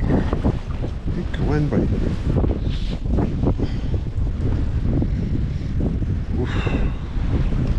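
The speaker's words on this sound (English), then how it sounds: "Hard to control with a bloody gale force wind behind you" Gale-force wind across a stillwater fishing lake, roaring and buffeting the microphone in a constant loud rush, with someone talking briefly underneath.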